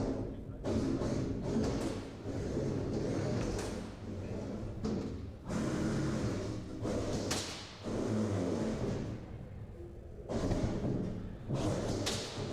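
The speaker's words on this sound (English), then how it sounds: "So the sound you hear there is the hammer hitting, and the fart noise you hear after is the gearbox trying to retract." Combat robot hammer weapon slamming down during an all-versus-one boss battle at a gaming festival robot event, followed by a rough buzzing gearbox retracting; repeated loud thuds and grinding bursts over constant arena noise.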